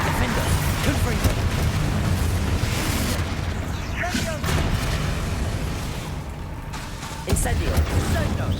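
Incendio and Confringo spell blasts go off in the Hogwarts Legacy video game, a dense string of booming explosions and crackling bursts over a steady rumble, with fresh loud hits near the start and end.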